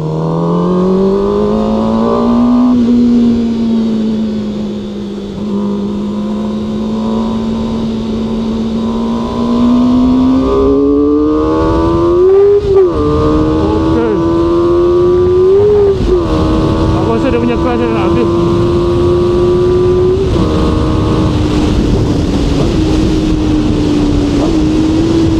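A QJMOTOR SRK 450 RR motorcycle being ridden, its engine droning and rising in pitch through repeated revs and gear changes, loud and close, with a rider's voice talking over it.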